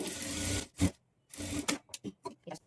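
A sewing machine stitches blouse fabric for a katori blouse, starting with a rough stitch at the end: one steady whirring run, a brief burst, then a longer run breaking into several short stop-start pulses, close and alone.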